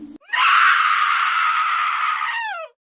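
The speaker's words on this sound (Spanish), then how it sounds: "Ese grito había puesto los pelos de punta a los héroes" A woman's scream of horror used as a sound effect in a creepypasta narration, one long loud shrill cry held for over two seconds and then cut off, with no talk over it.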